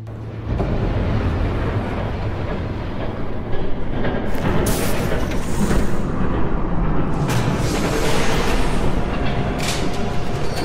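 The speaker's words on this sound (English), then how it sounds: "There's a train coming." A train approaching in the video game Batman: The Telltale Series, a loud continuous rumbling roar that swells and thickens with rattling, hissing bursts over about ten seconds.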